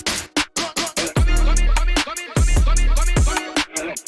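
Punchy electronic drum beat with hard kicks and a deep, sustained 808 bass that swells in two long booming notes, interspersed with crisp percussive hits, loud and upfront with no talking.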